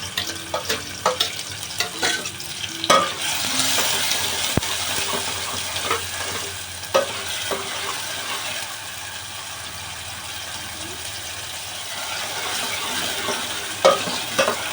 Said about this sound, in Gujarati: તો તેલ આવી ગયું છે, તો હવે આપણે એડ કરીશું કાંદા